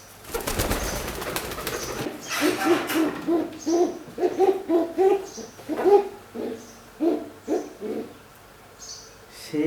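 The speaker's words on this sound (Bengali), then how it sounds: "বোম্বাই কবুতরের এই আপনার জুটিগুলো অনেক সুন্দর মাশাল্লাহ" Bombay pigeons coo in a steady series of soft, rounded calls repeating about every half second. A brief burst of rustling noise comes first, then the cooing stays close and clear with no voices.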